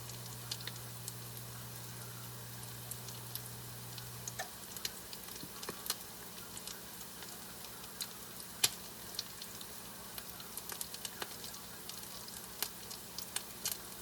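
Salmon patties fry in a pan with a steady, close crackling sizzle, dotted with small sharp pops and ticks, alone without talk; a low hum runs underneath for the first few seconds.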